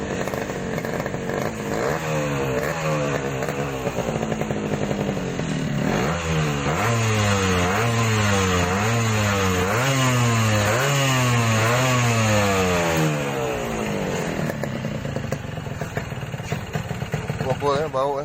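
A Yamaha RX King two-stroke motorcycle, smoking and leaking engine oil, runs loudly close by, its engine revving up and down in repeated rising and falling bursts before settling back toward idle.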